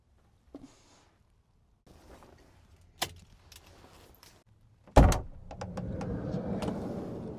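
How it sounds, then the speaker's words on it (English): Keys jangle and clink in short bursts, followed by a louder clatter and rustle of handling, with brief gaps of quiet between the sounds. "Just gotta grab my keys."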